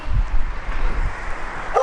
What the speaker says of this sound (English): Gotta be careful of dogs, especially over here.